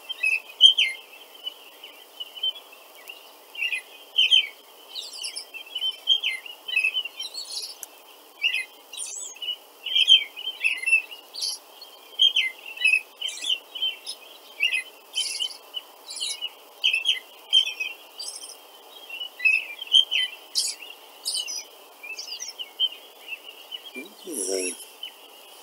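A cardinal chirps in sharp, repeated calls at an irregular pace, moderately close, over faint background hiss and insect-like buzzing.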